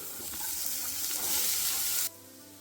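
Radish and sponge gourd frying in a pan, a continuous close hiss of sizzling with faint stirring that swells slightly, then drops abruptly to a quieter sizzle near the end, with no talking.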